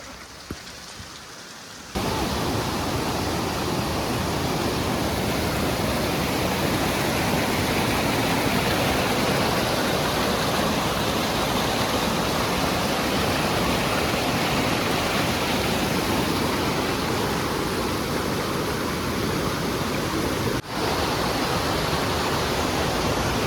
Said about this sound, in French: Elle est géante cette cascade.